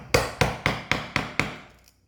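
Chisel striking into wood, cutting sections to free material while making a wooden marking gauge, heard as six sharp, evenly spaced impacts, each followed by a brief ringing decay, close and alone.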